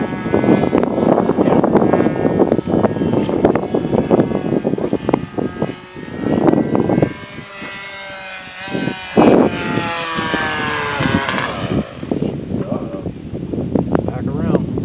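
A radio-controlled model airplane flying overhead outdoors in wind, its engine drone rising and falling as it passes, with wind buffeting and people talking over it.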